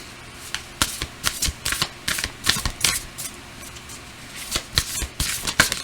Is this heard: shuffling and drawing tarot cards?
yes